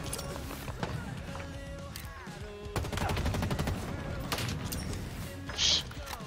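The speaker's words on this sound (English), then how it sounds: "Nice sniper shot," Halo Infinite match with sniper rifle shots and dense gunfire bursts, sharp impacts and clattering mechanical game sounds, loud and busy throughout, with occasional voice chatter.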